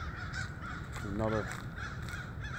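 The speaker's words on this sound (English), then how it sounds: "Got some crows up there" Crows caw overhead at an outdoor stadium, a short run of harsh calls rising briefly above a steady ambient hiss, with a person speaking nearby.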